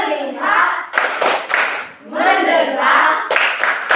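Children in an Indonesian classroom chant in unison and clap a rhythmic pattern, with sharp bursts of clapping between the voices, loud and close.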